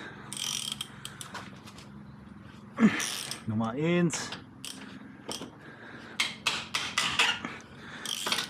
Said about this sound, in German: Knarre, Verlängerung und Torx-Nuss.